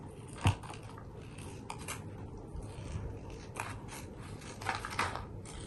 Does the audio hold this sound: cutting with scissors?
yes